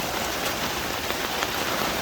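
Heavy rain pours steadily onto surfaces around a chicken coop and runs off toward a drainage trench, a dense, loud, continuous hiss with close splashing drops and no voices.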